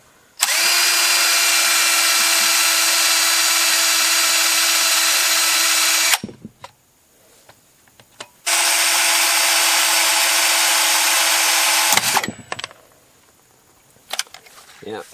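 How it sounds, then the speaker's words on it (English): A power drill with a reversed left-hand bit whines loudly in two long bursts of about six and four seconds, drilling out bolts from a Subaru EJ25 engine, separated and followed by quieter clicks and handling noises. "probably the best way to get them out of here is to drill them out."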